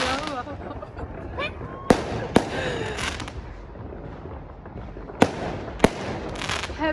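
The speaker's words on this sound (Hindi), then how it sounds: "पता नहीं कहाँ पे आतिशबाजी हो रही है" New Year fireworks go off in the distance: several sharp, separate bangs and crackles, roughly two pairs a few seconds apart, over a low background, with a voice talking at the start.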